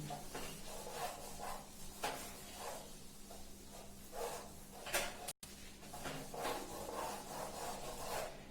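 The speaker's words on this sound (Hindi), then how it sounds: "इसको रब कर देता हूं मैं" A lecturer rubs writing off a classroom board during a differentiation lesson, giving a soft, continuous rasping swish in repeated strokes with one brief gap, fairly faint and with no talk over it.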